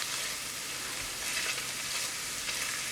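Garlic and anchovies fry in oil in a pan, giving a steady, even sizzle that carries on without a break at moderate loudness and with no voices over it.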